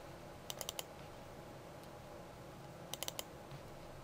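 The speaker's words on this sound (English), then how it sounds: "type in a name" Quick bursts of faint key clicks as a file name is typed on a computer keyboard, two short runs of about four keystrokes over a steady background hiss.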